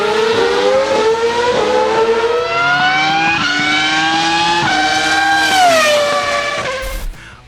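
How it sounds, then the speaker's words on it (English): A high-pitched Formula 1 race car engine screams continuously, its tone climbing and dropping through gear changes, loud and close throughout. "this is also the case for the sound of the engines"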